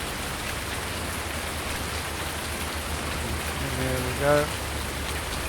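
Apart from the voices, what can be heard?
rain falling in the video game Farming Simulator 19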